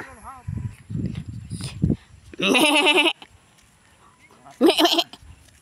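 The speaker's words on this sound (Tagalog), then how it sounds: "Cute ng kambing, oh." Goats bleat in two loud, wavering bursts, close by, between stretches of people talking, on Mount Makiling at Sto. Tomas, San Miguel.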